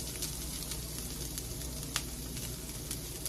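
Crumbled Trader Joe's organic tempeh browning in a hot pan gives off a steady, dense sizzle with scattered small pops and crackles, close and continuous throughout.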